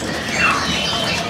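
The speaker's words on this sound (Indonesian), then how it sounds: "burung lokalan teman-teman ya, yaitu burung cililin." A black cililin, a small local songbird, gives a brief, sharp squeaky call, close and fairly loud against a soft background hiss.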